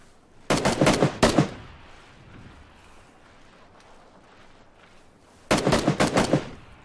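Two rapid bursts of gunfire, several sharp shots each, fired in quick succession a few seconds apart over a quiet outdoor background, loud and near.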